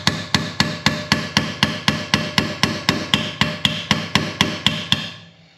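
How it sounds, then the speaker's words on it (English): A hammer strikes a part during a Mitsubishi Evo 8 engine rebuild, about seventeen sharp metallic blows in a steady, quick rhythm, close and loud, ending with a short ringing decay and no talk. "Try to get this guy hammered back in."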